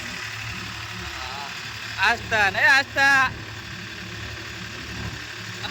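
A tractor engine idles and runs steadily while people ride on it on a trip to a market yard, a continuous low hum with a brief burst of talking in the middle.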